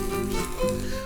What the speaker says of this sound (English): I'm putting some garlic in there